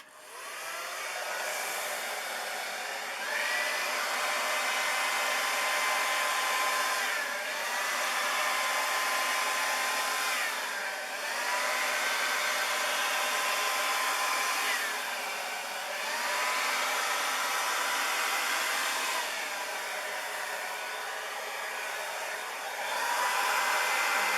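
Air blown over wet poured paint in a Dutch pour fluid art piece, a steady hair-dryer-like whir that swells and dips in repeated passes, close and continuous with no talking.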